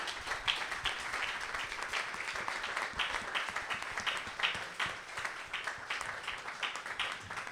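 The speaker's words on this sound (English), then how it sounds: "Can we please give a round of applause for our panelists?" An audience at a panel discussion claps for the panelists in a brief, moderate round of applause, fairly close and dense with individual claps audible, with no talk over it.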